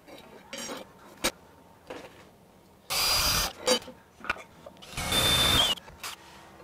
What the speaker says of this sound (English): Now that I've got these two drilled, and I've got this one drilled over here